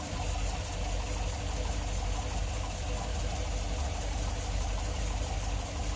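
A boat engine runs at a steady, even idle with a low rumble and faint knocking, constant and close throughout.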